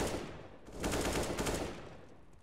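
Rapid pistol fire from a USP in a professional Counter-Strike: Global Offensive match, a dense burst of shots that swells and fades over a couple of seconds with no talk.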